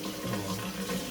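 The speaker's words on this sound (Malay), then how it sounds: "Sekarang kita basuh dia dengan air mutlak 6 kali." Tap water runs steadily into a sink while something is rinsed and washed, a continuous close splashing flow with a voice faintly underneath.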